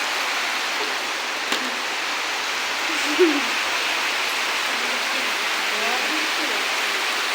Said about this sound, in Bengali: খুব বৃষ্টি হচ্ছে।